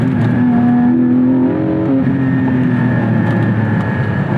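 A Porsche 718 Spyder engine pulling in second gear under long gearing, a loud, steady drone from inside the car with a pitch that shifts slightly and rises, no voices.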